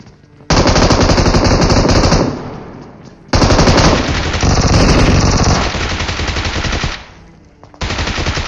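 A Bizon submachine gun fires in long, rapid automatic bursts in a shooter video game set on a military base. Loud, dense streams of shots come in three extended bursts separated by brief pauses.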